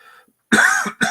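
Two sharp, loud coughs close to the listener, the first drawn out and the second brief, after a moment of near silence.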